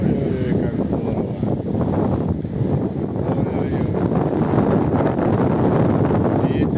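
Strong wind buffets the microphone in steady, loud gusts during a ride, a constant roaring rush with no pauses from start to finish.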